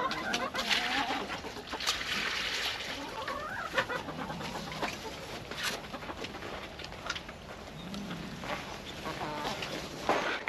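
Chickens clucking on a homestead at watering time, scattered soft clucks and short calls close by over faint background noise.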